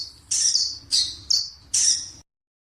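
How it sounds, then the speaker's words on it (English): Four sharp, high-pitched squeaky chirps, close and loud, come in a quick irregular series as a bat call before cutting to silence. "Bat."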